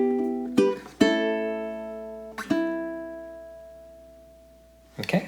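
A ukulele plays a slow phrase from a song, a few plucked and strummed chords ringing out and fading between attacks, played solo and close.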